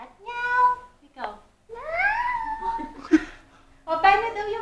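A small child imitates a cat, giving several drawn-out meows with pauses between them while an adult voice talks around the calls.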